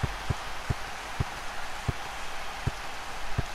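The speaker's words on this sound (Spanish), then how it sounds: "Está lloviendo" Steady, hissing rain falls across a pitch in Active Soccer 2 DX, with soft low thuds recurring at a regular pace beneath it.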